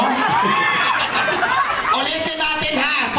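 Crowd of people shouting together during a prize contest, a dense, loud wall of overlapping voices and cheers that stays strong throughout the short burst.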